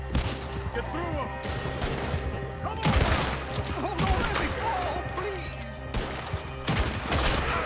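Gunfire from horseback in Red Dead Redemption 2 comes as a rapid string of loud shots and bursts, with voices talking over the shooting.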